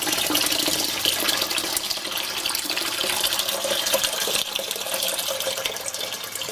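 A steady, loud stream of water, 1.5 liters, poured into a pot holding 1 kilogram of sugar while making cola syrup, splashing continuously without pause.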